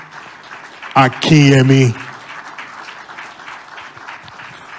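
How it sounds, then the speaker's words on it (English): An evening audience breaks into sustained hand clapping to welcome a speaker, with a loud voice calling out a name just before the applause continues steadily. "Can we receive with a hand clap this evening"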